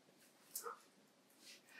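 A recorded dog barking plays through a phone speaker during a dog-training session: faint, distant yips and whimpers in two brief bursts over low background hiss.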